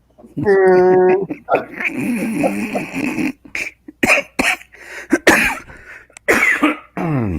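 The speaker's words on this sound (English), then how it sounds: "Laugh so hard I'm coughing up a lung" Several harsh, rough coughs close to the microphone, broken up with throaty sounds and laughter-like bursts, uneven in rhythm.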